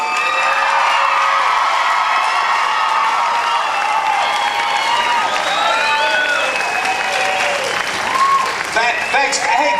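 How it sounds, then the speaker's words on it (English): An airshow crowd claps and cheers for the Red Devils, the Parachute Regiment freefall display team, a dense sustained wave of applause with whoops and shouts, a public address voice heard over it. "A huge big cheer, a round of applause for the Parachute Regiment Freeball Display Team"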